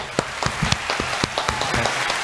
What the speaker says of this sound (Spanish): Fuerte el aplauso, por favor, para él.